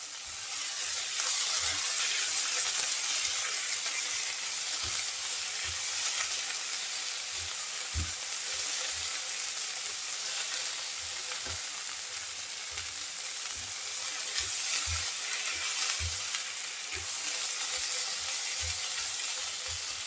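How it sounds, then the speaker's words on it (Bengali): A hilsa fish head stir-fried with red amaranth greens sizzles steadily and loudly in the pan for a long stretch, while a spatula taps and scrapes at irregular intervals underneath. "বারে বারে একটু নেড়ে চেড়ে ভেজে নিতে হবে যেন ইলিশ মাছের মাথাটা সাথে সাথে সুন্দর করে মিশে যায়"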